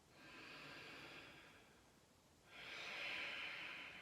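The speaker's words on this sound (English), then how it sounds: "a couple of lovely big deep breaths there" Two slow, deep breaths during a yoga exercise, a long soft inhale and then a fuller exhale, quiet and close with no talk.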